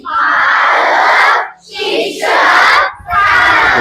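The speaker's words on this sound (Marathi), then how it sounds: "वा जोरदार टाळ्या।" Audience of students and parents at a school speech event erupting in loud applause and shouting, a dense roaring wave in three surges separated by brief dips.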